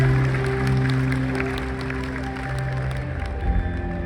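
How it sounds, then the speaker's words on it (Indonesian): Steady applause from a crowd at a company anniversary celebration, with a continuous low hum underneath, holding at an even level throughout. "Boleh berikan tepuk tangan kepada Ibu"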